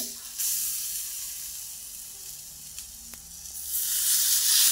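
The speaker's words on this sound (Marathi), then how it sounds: "आता आपण मासे सोडून घेऊया।" Fish fry in a pan with just one or two spoons of oil, a soft continuous sizzle and hiss that swells as the fish go in, near and moderately quiet, without speech.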